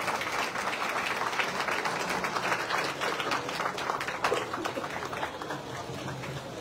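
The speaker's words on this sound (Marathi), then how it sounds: "जोरदार टाळ्या या कुटुंबासाठी" Loud sustained applause from a crowd at a community Ganesh festival prize event, dense clapping filling the whole stretch without pause.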